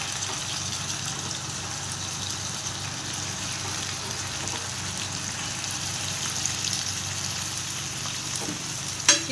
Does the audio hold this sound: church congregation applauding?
no